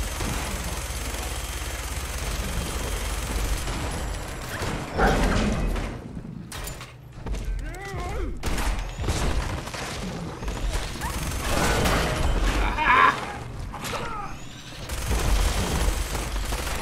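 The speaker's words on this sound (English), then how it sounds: "Minigun not known for its accuracy." A minigun in Fallout 4 fires in loud, rapid bursts with heavy booms and thuds between them, rising and falling in intensity over a busy combat background.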